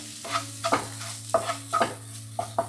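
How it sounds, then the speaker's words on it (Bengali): Ginger frying in a pan while being stirred, with a steady sizzle underneath and repeated scraping strokes of a spoon coming at an uneven rhythm, close and fairly loud. "আদাটা যতক্ষণ না ভাজা ভাজা হয়ে আসবে ততক্ষণ কোনো জলের ব্যবহার করব না।"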